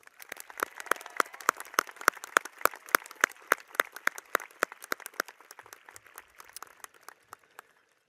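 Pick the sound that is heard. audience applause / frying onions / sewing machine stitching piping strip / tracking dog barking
audience applause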